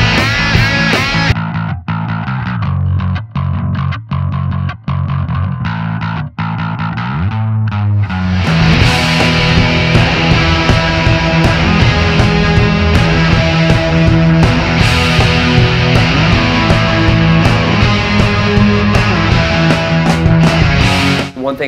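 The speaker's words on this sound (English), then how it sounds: "It's an Ampeg SVT type tone." Distorted bass guitar plays through an amp with an Ampeg SVT-type tone, starting with choppy muted stabs and then settling into a loud, sustained, gritty riff.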